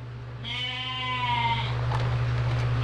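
A ewe on a sheep farm lets out one clear, drawn-out bleat close by, over a steady low hum in the barn background.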